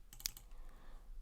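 A computer keyboard spacebar pressed a few times in quick succession, faint crisp clicks close by against quiet room noise.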